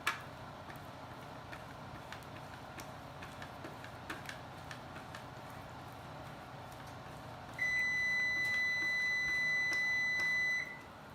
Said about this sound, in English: that beeping noise is the oven that I preset to 375